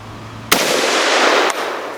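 A .308 (7.62x51 NATO) battle rifle fires one sharp, loud shot, followed by about a second of rumbling echo and a second crack as the blast fades outdoors.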